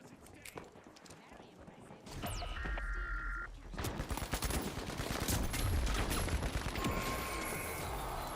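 Rapid gunfire and dash bursts in The Finals, a first-person shooter match, popping over a dense busy game mix while a voice talks across it; shots come in quick clusters, loud and close, with a steady layer of action noise behind.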